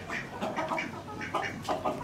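An Aseel chicken clucks repeatedly in short, close, throaty bursts, with soft farmyard background noise.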